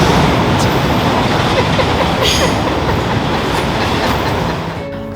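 A passing train makes a steady, loud rumbling roar with rattling wheel clatter. The noise holds for several seconds, then begins to fade at the very end.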